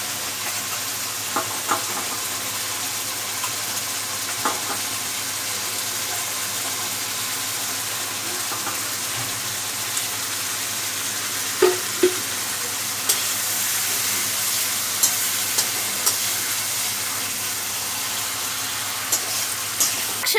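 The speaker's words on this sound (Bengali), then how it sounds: "আলুটা আমি মশলার সঙ্গে মিশিয়ে দিচ্ছি।" Pre-fried potatoes and fish are stirred through a spice paste in a frying pan, giving a steady sizzle for about twenty seconds, broken by scattered clicks and scrapes from the utensil.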